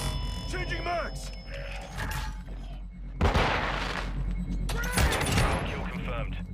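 Weapon magazine reload in Call of Duty Modern Warfare II, close mechanical clicks and metallic clacks of a mag being swapped, with game effects and noise in the background.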